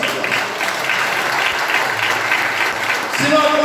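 Church congregation applauding during a sermon, sustained crowd clapping filling the room at a fairly loud level, with a voice speaking over it.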